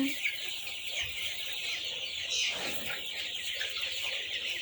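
Eight-day-old chickens on a poultry farm clucking and cheeping over a steady background hum, with faint human voices now and then.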